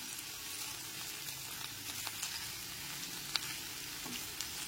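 Spring onion greens fry and get stirred in a pan, a soft continuous sizzle with occasional spatula scrapes and clicks, close and fairly quiet.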